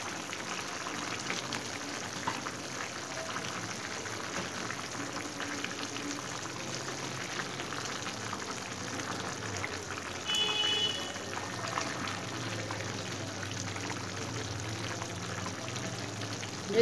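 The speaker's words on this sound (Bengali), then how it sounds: "এখন আমি এর মধ্যে দিয়ে দিব ভাজা ডিমগুলো" Fried eggs go into a simmering cauliflower curry, with a steady close bubbling and hissing the whole time and a brief louder stir of liquid partway through.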